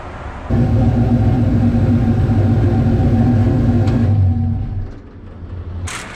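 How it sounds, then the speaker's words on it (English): A loud rat rod car engine idles with a deep, steady rumble close by, then fades away after a few seconds, leaving quieter background noise. "The car's loud."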